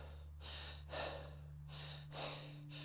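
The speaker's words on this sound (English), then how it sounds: "what a lot of people do is they breathe shallow" A person demonstrates shallow breathing, with short inhales and exhales of similar length in an even rhythm, close and fairly quiet over a low steady hum.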